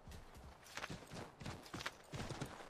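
Horse hooves clip-clop in a steady, uneven walking rhythm in Assassin's Creed III, each strike sharp and close, with faint background game ambience and no voices over it.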